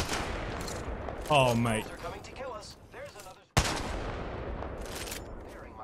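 Gunfire in the game Apex Legends during a ranked match, dense bursts of rapid shots and impacts running throughout, loud and close, with a player speaking briefly over the shooting.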